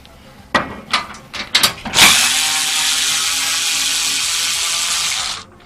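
A small battery-powered drill drives screws while a server rack is reworked: a few quick clicking ratchet bursts, then a sustained loud, close whirring run of about three seconds that cuts off abruptly.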